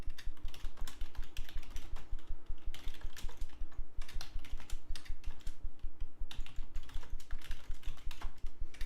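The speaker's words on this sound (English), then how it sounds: "I can't keep up with you typing" Rapid, steady typing on a computer keyboard, a close and continuous patter of sharp key clicks with no talking.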